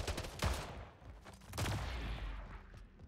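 A few quick bursts of handgun fire in the arena shooter Splitgate, punchy and fairly close, standing out from a busy backdrop of game noise and no voices.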